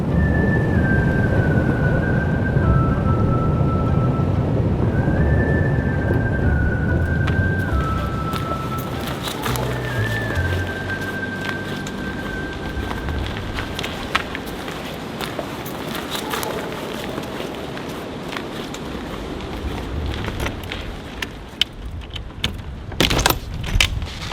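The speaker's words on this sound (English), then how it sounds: "The wind has been whipping all day." Strong wind whips around an off-grid yurt in a steady, loud broadband roar with wavering whistling tones early on. Sharp rattles and knocks come near the end.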